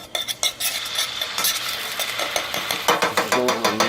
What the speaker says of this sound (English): I'm going to dump a heaping tablespoon and a little more garlic in there